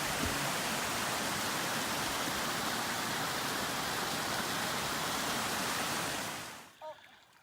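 Creek feeding Obsidian Falls on the Three Sisters Loop, a loud, steady, close rushing of flowing water that continues unbroken and then cuts off abruptly near the end.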